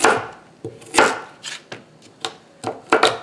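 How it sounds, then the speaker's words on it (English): Carrots being chopped with a knife on a cutting board while preparing a raw-pack canned soup starter, heard as about nine sharp, irregular knife strikes spaced across a few seconds, close and clear with no talking. "So we're just going to chop up these 2 bags of carrots."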